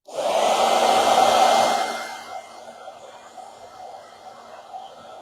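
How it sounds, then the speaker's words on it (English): A blow dryer roars up close for about two seconds while drying paint on a Christmas craft, then drops away to a faint hum. "I do have my blow dryer here, so I could dry this really quick if I want."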